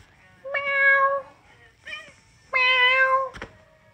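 A cat in heat gives two long, drawn-out meows, each about a second long, with a short softer call between them. The calls are close and clear over a quiet room.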